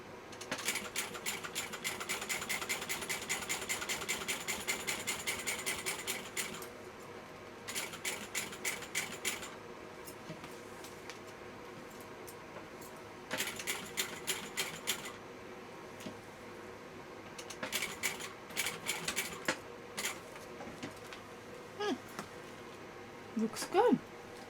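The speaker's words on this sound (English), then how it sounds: "So I'm just doing a box stitch." A sewing machine runs a box stitch on a backpack in several rapid, rhythmic bursts separated by pauses, with steady hum and clicks between runs.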